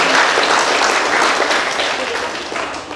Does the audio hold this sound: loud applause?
yes